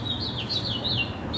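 A bird sings in a garden allotment, a string of high, wavering chirps and trills at moderate distance over faint background hum, with no voices.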